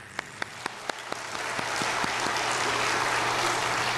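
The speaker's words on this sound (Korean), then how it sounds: "우리 서로 자축에 박수 좀 합시다" A church congregation claps in celebration during a Korean sermon, starting with a few distinct hand claps that swell into steady, fairly loud applause.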